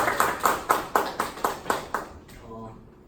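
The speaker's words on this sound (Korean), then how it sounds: "박수" Eight sharp, evenly spaced claps ring out in a steady rhythm, close and fairly loud, then stop abruptly, leaving a faint room tail with a brief murmur.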